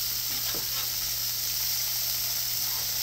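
Smashburgers sizzle steadily on a griddle insert on a Masterbuilt 1050 smoker, a close, continuous frying hiss with a steady low hum beneath and no voices.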